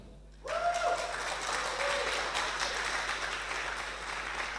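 An indoor audience at a startup pitch event bursts into sustained applause for a judge, a dense wash of clapping that starts abruptly and continues steadily.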